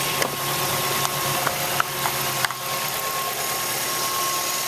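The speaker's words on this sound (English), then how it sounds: "So it's off, car's still running." A 2007 Mazda 3 engine idles steadily close up with its hood open, a continuous even hum with a faint whine and a few light ticks.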